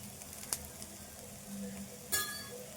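Prawns frying with salt and chili powder in a pan, a soft steady sizzle with two brief clinks of a utensil against the pan.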